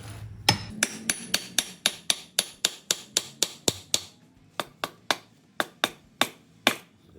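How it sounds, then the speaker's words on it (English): Sharp metallic hammer strikes on a steel knife blade forged from high-grade bolts ring out in a steady series, about twenty blows with a brief pause midway, each hit crisp and close. "Let's just see if we can hammer it in this way too."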